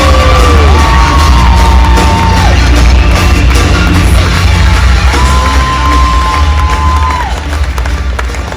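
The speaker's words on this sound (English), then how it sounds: "Let's give a big round of applause for beach volleyball player Sam Petla." A loud audience at an event for an athlete claps and cheers without a break, with high rising whoops and shouts over the crowd noise.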